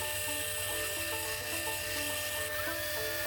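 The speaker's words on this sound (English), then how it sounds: "What I'm doing right here is I'm working towards the front, doing that convex grind." A grinder works a convex bevel toward the front of a chunky tanto knife blade, a steady, loud mechanical whine and abrasive rasp running continuously and close up, with slight shifts in pitch as the blade moves against the belt.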